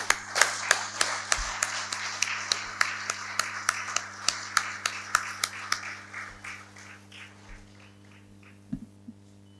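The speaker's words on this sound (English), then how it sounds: "A round of applause, please." Applause at an anniversary celebration of a legal cell, heard as a series of sparse, distinct claps at a fairly regular rhythm that thin out and fade over several seconds, sounding like only a few people clapping.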